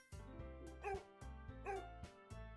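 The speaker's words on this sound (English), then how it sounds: "So give me a skateboarding dog." Synthesized dog barks and yips from a video game's skateboarding dog, several short bouts in rhythmic bursts over steady game music, fairly loud and close.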